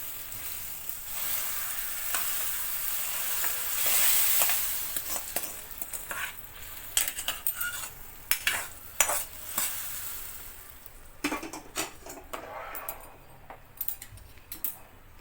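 A spoon stirs and scrapes vermicelli around a pot of boiling milk in irregular strokes, with soft bubbling and clinks in between, close by and with no talking.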